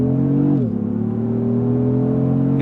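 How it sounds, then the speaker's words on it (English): A Lexus GX550 Overtrail+ SUV's twin-turbo V6 revs hard, then surges into a loud, sustained acceleration from a standstill, its droning pitch climbing steadily. "build up the revs, let it go"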